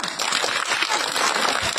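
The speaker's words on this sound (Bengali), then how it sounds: "একটা জোরে হাততালি দাও" Students in a classroom clap loudly together, a dense two-second burst of crackling applause.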